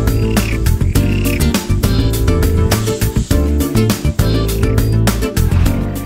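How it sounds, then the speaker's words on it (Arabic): Dense chorus of frogs croaking by a lake set in forest near the Mediterranean, loud and continuous with rapid overlapping calls, no talking. "المكان مثالي للاستمتاع بسيمفونية الطبيعة المشكلة من نقيق الضفادع وتغريد الطيور وخوار الأبقار"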